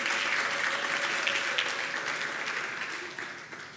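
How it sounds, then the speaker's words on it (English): A crowd applauds steadily, dense clapping that slowly fades toward the end. "Give them a round of applause, please."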